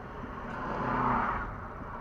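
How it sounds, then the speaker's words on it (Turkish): Dense road traffic in İzmir, heard from a rider's position: a car engine swells and passes nearby with a rising then fading whir over a steady traffic drone, no voices. "Oldukça yoğun bir trafik."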